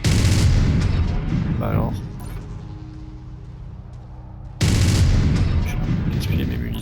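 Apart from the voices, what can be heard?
mech weapons firing in MechWarrior 5: Mercenaries video game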